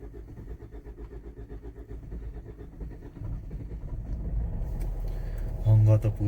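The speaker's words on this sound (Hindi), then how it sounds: "देखते हैं गाड़ी को स्टार्ट करके।" Car engine cranking and starting in freezing, snowy weather in Chhitkul, a slow rumbling start that builds louder toward the end, heard up close.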